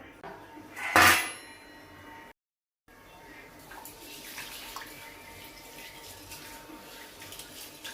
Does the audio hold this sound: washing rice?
yes